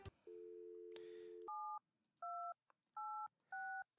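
In the Thimbleweed Park video game, a steady dial tone gives way to four distinct touch-tone beeps, each short and evenly spaced, with faint handset clicks between them.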